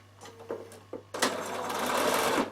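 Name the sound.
Bernina sewing machine stitching fabric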